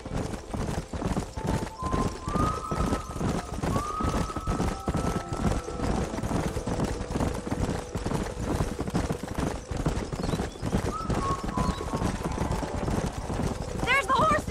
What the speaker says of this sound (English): There's the horses! Get that lasso ready!